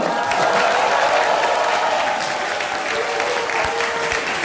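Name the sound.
audience applause at political rally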